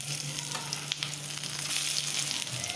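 Frying for a kuzhambu crackles and hisses softly while being lightly stirred, a faint steady sizzle with occasional small stirring scrapes.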